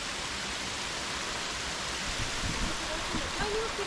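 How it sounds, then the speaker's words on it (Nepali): The famous Trikhandi waterfall pours in a constant, even rush of water, with faint voices murmuring briefly beneath it toward the end. "यो चाहिँ त्रिखण्डीको झरना है त्रिखण्डीको फेमस झरना"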